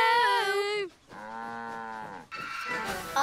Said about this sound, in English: Do tractors moo? No, but cows do.